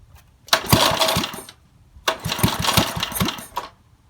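The engine of a 1953 Toro Whirlwind lawn mower that had sat unused for fifty years, sputtering to life in two short, rough, close bursts of popping combustion, each catching briefly and then dying, with no talking.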